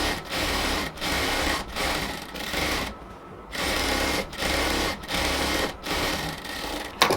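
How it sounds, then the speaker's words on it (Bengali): Sewing machine stitching densely along a salwar waistband, loud close bursts of rapid stitching broken by brief regular pauses, one longer stop midway, no voices. "এই যে পুরো সালোয়ারের মুখে আমরা হচ্ছে ঘন করে সেলাই করে দিলাম।"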